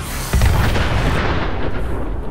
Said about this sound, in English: Custom Nuka grenades mod. Just one shot.